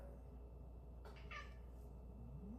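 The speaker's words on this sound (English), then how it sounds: "that's my cat." A single cat meow, fairly quiet, rising briefly over a low background hum with no talking.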